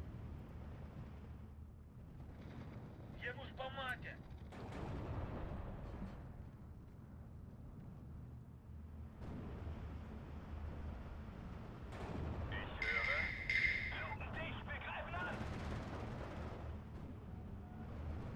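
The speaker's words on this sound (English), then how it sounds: "More machine guns." Automatic weapon fire and explosions from the World War 2 strategy game Steel Division 2, a steady rumbling battle din with bursts of gunfire throughout and a sharper flurry near the end. A voice talks over parts of it.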